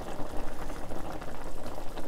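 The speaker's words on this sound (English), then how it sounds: "So once it's boiling like this, I'm gonna come in and remove some of this foam." Chicken curry broth boiling hard in a pan for Korean curry rice, a dense, continuous bubbling and churning heard up close with no talk over it.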